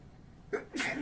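A single close sneeze, a short sharp intake followed by a loud burst, set against quiet room noise at a press conference.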